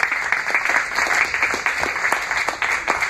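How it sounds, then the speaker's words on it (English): Audience at a real estate startup talk breaking into applause, a sustained burst of many people clapping indoors, fairly close and even, with no speech over it. "This is round of applause."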